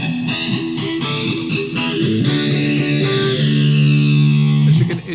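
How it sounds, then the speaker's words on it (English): Electric guitar played through a distortion effects pedal, loud and sustained, with gritty, buzzing chords and notes ringing on, the last one held before a sudden cutoff. "Let's kick up this distortion here."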